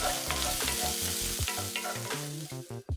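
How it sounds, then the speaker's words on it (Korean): Sliced onions seasoned with a pinch of salt and a little pepper sizzle and crackle in a hot pan while being stirred, with steady frying and rhythmic scraping up close and no talking. "소금 한 꼬집, 후추 약간 넣고 양파가 색깔 날 때까지 볶았다"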